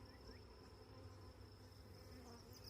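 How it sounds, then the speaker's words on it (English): Honey bees buzz inside a hive, a faint, steady, continuous drone with a thin high whine running throughout and no talking. "We got a lot of bees on the back wall also."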